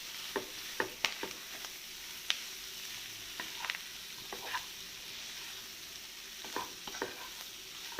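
Clam meat roast is stirred in masala with salt in a pan, giving a faint, steady sizzle broken by soft, scattered scrapes and taps of the spoon.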